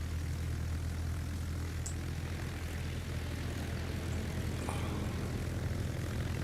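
A propeller aircraft engine in the naval combat video game World of Warships drones steadily and evenly throughout, loud and continuous with no pauses.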